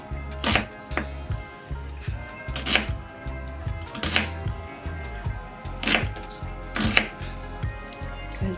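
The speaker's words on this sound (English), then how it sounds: "I'll chop it that way." A knife chops red onions on a board with about a dozen crisp, evenly spaced strikes, close and clear, under soft background music with no talking.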